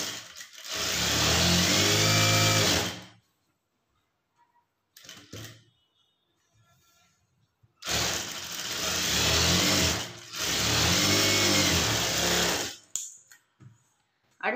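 A sewing machine runs a straight seam on a blouse in two long, even bursts of motor whir separated by a pause holding a few brief clicks and short starts.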